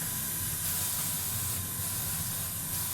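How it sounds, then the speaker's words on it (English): A steady, continuous hiss of an airbrush spraying paint thinned with almost equal parts thinner at about 15 psi, loud and unbroken throughout, with no voices. "Mixed it with almost equal parts thinner and spraying it at about"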